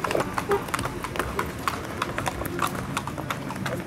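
Tennessee Walking Horse hooves clip-clop on a trail in a steady, brisk rhythm of light taps at moderate distance, with people talking faintly in the background.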